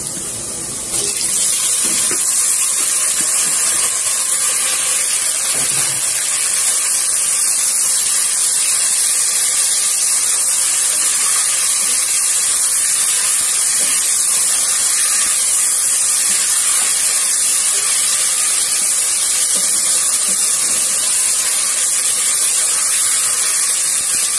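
Seasoned pork pieces hit a pot of golden onion and garlic and sizzle loudly, a strong, continuous hissing spatter that swells after the first second and holds steady.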